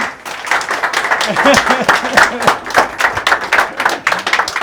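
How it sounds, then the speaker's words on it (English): A studio audience claps and cheers to welcome a guest on a talk show, a dense, close burst of applause with voices rising over it throughout. "big round of applause for Mr. William Sunnucks, everybody"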